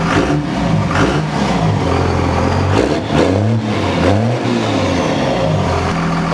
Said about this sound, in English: I'll rev it up a little for